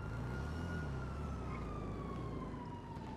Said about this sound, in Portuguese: esse barulho aí, mano. Que é ambulância, né não?